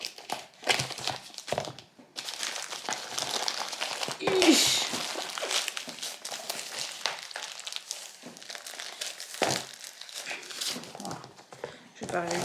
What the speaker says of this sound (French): On va ouvrir ça. C'est beaucoup trop bien emballé.